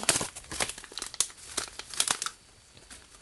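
Plastic packaging around double-sided tape crinkles and crackles in close, uneven bursts as it is pulled and twisted, quieter crackles trailing off at the end.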